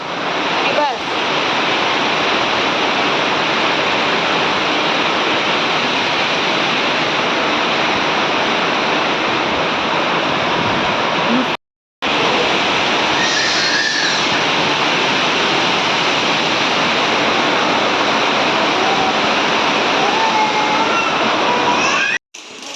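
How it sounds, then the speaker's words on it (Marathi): A loud, unbroken hiss of heavy monsoon rain pours down outside in Mumbai, cut by one brief dropout midway. "पाऊस येतोय ना बाहेर आता"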